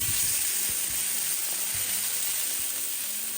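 Quartered tomatoes sizzle in hot roasted-flavor oil in a pan for chilaquiles with chorizo salsa, a steady close frying hiss with faint pops and no talking.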